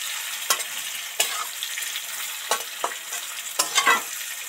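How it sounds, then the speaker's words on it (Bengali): Spiced vegetables for shukto sizzle steadily in a wok while a spoon scrapes and stirs them in a handful of sharp, separate strokes, close and fairly quiet, with no voices. "এবার আস্তে আস্তে মশলাটা সবজিগুলোর সাথে মিশিয়ে দিলাম।"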